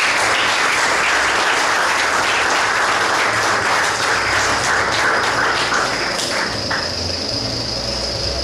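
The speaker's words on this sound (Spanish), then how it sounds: "Aplausos, por favor." An audience at a literary awards ceremony applauds steadily, a dense wash of clapping hands that continues throughout and thins slightly toward the end.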